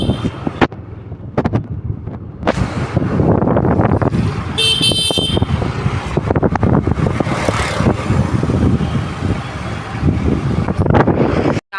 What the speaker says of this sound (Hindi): पीछे देखो पूरी ट्रैफिक चलता आ रहा है।